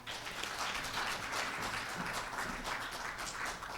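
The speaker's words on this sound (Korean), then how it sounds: "인사 큰 박수 부탁드리고요." Audience applause at a cooperative's annual delegates' general assembly in Seoul, a dense sustained round of clapping from a large seated crowd, steady throughout.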